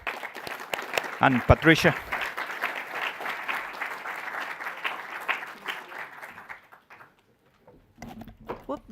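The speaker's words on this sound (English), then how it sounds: "I ask for an applause for them." Audience applause for a panel at a tribute event, a dense patter of clapping that runs for about seven seconds, then fades out, with a speaker's voice heard briefly near the start and again at the end.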